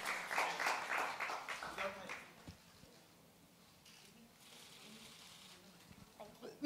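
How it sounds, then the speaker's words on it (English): Applause from the audience at a Bollywood skincare launch event, a burst of clapping that fades after two seconds into quiet room noise, moderately faint. "A huge round of applause."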